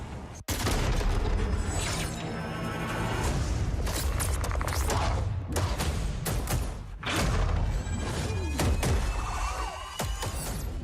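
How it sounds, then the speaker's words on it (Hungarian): Video game explosive breach on a bridge entry: a sudden blast, then sustained loud rumbling, debris crashes and thuds, and a second heavy impact partway through. "This is Shadow 1 going explosive on bridge entry."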